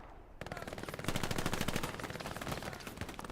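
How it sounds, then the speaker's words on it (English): MG42 machine gun in a WWII Battle of the Bulge video game, a loud rapid stream of bursts firing with heavy overlapping shots, dense and continuous after a brief quiet opening. "MG42 rounds still coming on in."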